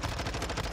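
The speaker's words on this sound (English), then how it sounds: "shot that guy 5 times" Rapid burst of gunfire in Rainbow Six, several quick, sharp shots in a fast, even rhythm packed into less than a second, loud and close.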